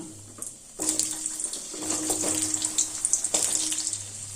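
Cut potatoes hitting hot oil with fried whole spices and dried red chilli, which bursts into a bright, hissing sizzle with scattered crackles and pops that stays steady at moderate loudness.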